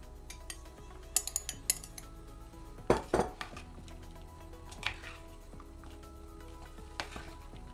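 Ham and pancake strips are tossed into a salad in a bowl with a utensil, giving scattered clinks and soft scraping taps, close and fairly quiet, with no talking.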